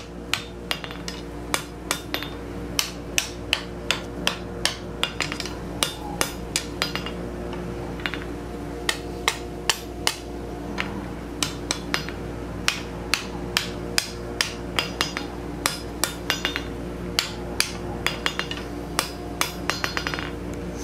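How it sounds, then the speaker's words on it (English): Hot steel scroll is hammered out over the edge of an anvil while forming a scroll on a bending jig, giving a steady run of sharp, ringing metallic blows at an even rhythm, close and loud throughout, with no talking. "Hammering way off the edge there."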